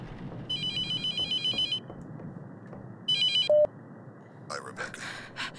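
A telephone rings in a mortuary in The Mortuary Assistant, giving two bursts of electronic trilling with a short beep and a few clicks between and after them. The ringing is fairly loud, and no one speaks.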